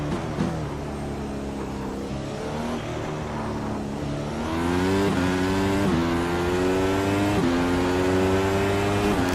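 A road race car in the iRacing sim, driven hard on the throttle, with a loud, continuous engine note climbing and dropping through repeated revs and gear changes, heard alone and close.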